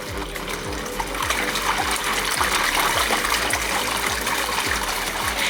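Water sloshes and splashes steadily inside a washing machine drum as clothes tumble, a regular rhythmic churning heard close and moderately loud.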